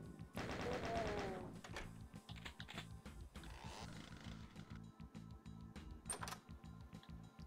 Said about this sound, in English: Oh, this is the super shotgun.